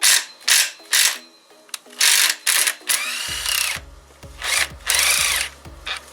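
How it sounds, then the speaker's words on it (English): A power tool runs in short bursts while loosening a cylinder head bolt on a Kia Forte or Soul 1.8/2.0 Nu engine, the close, loud whirring pulses separated by brief metallic clicks and a lower rumbling stretch in the second half. "we'll remove the bolt next, and we will leave the last nut"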